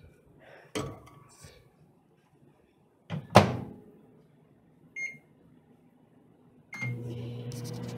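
A kitchen microwave oven is used: a door clunks shut, a louder slam or knock follows, then a short electronic beep, and finally the steady hum of the oven starting up, heard close.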